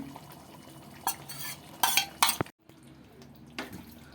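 Spice paste for coriander chicken is stirred in a pan, a few loud scraping strokes of a spoon against metal around a brief pause, over a low background of gentle frying, with no speech.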